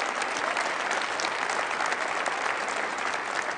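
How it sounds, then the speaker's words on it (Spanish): Audience applause at a live Spanish-language comedy show, a dense, steady roar of many hands clapping that fills the room, loud and continuous without a break. "Que no me aplaudan, carajo."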